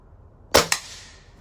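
A Norica Dragon .25 caliber air rifle fires once, a sharp close crack followed by a quick second snap and a short fading ring in an otherwise quiet setting.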